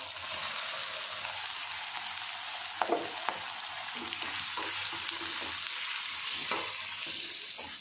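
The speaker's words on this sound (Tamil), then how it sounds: "இப்போ பன்னீரும் நம்ம வெங்காயத்தையும் கட் பண்ணி வச்சுருந்தோம் இல்லையா, அதை நம்ம எண்ணெயில் கலந்துக்கலாம்." Paneer and onions fry in oil with a steady crackling sizzle, broken by several soft scraping knocks as a utensil stirs them, heard alone without speech.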